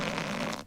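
A single short, buzzy fart lasts under a second, loud and close, with a rough vibrating tone that cuts off abruptly.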